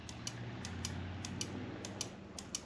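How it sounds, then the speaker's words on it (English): A rapid series of sharp mechanical clicks from a brake or clutch lever being locked in on a 2022 Suzuki GSX-R1000R motorcycle, roughly evenly spaced, close up over a low hum. "you hear the clicking."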